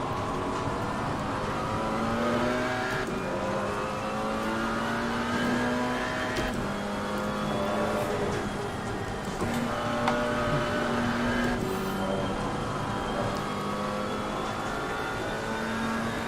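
GT4 race car engine in a racing video game on a wet Nurburgring, a continuous high-revving drone with repeated rising pitch sweeps and gear changes, loud and steady throughout with no talking.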